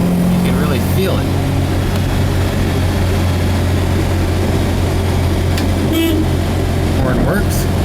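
1967 Volvo Amazon 122S estate with a B18 dual-carb engine driving, a loud steady drone of engine and road noise filling the whole stretch, with brief faint voice fragments over it.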